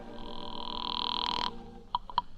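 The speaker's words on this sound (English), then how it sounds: "I borrowed Lillian Litton's phone and called the Lion" A telephone rings as a sound effect in an old-time radio detective drama: a steady, bright electric bell tone lasting over a second, followed by two short, quieter rings, with no voices.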